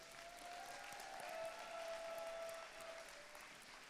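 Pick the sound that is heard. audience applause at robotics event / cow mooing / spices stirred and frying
audience applause at robotics event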